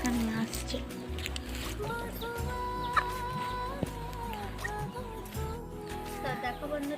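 A live chicken clucks close by before being cut for cooking. The clucks are partly masked by a person talking over them.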